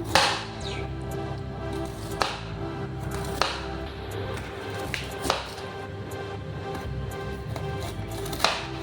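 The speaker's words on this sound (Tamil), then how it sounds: "ஆனியன் வந்து ரவுண்ட் ரவுண்டாக இப்படி கட் பண்ணிக்கலாம்" A knife slices an onion into rounds for homemade pizza, with sharp cuts landing every second or so against a steady background hum.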